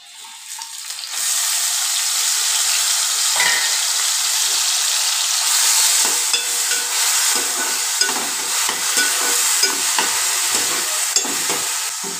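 Hot oil crackles in a heated kadai, a dense, bright, steady sizzle that starts abruptly and stays loud and close, with faint tapping near the end.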